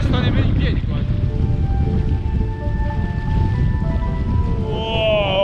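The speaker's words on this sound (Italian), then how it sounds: "È talmente tanto vento che non sto nemmeno in piedi quasi." Strong wind buffets the microphone beside a glacier in Alaska, a loud constant low roar that runs the whole time under a man's speech.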